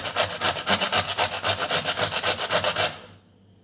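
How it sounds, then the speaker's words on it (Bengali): Pointed gourd (potol) rubbed against a kitchen grater in quick, even back-and-forth strokes, close and loud, about twenty rhythmic rasps before stopping abruptly. "এবার এই গ্রেটারের সাহায্যে পটলগুলো এভাবে ঘষে নেব সবগুলো পটল"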